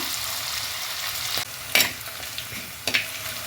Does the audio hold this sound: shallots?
yes